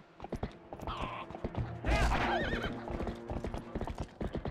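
Horse hooves clop in steady rhythm while the horse whinnies loudly and shrilly partway through, from Zelda: Twilight Princess, the clops continuing throughout.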